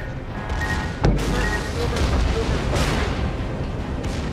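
Warship secondary guns firing in World of Warships on the battleship Wyoming, a dense run of booming shots with one sharp heavy blast early on, over a constant roar of naval battle noise.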